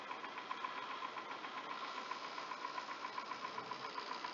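Refrigerator ice maker with its arm dropping and motor running, a continuous droning hum with a faint regular ticking pulse throughout, steady and close.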